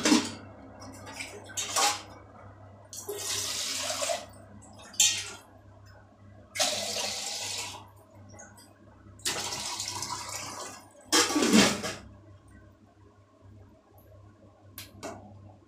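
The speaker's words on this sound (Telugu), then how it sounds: "లోటాతో లోటాన్నర నీళ్ళు పోయాలండి." Water is poured from a small vessel onto rice in a cooking pot, arriving in several separate splashing gushes with pauses between them, close and fairly loud, mixed with clinks of metal utensils.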